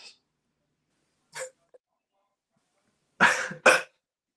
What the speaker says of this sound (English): are you coughing up blood here?